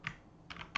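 A few computer keyboard key presses while working in Blender: three light, quiet clicks spaced irregularly, with near silence between them.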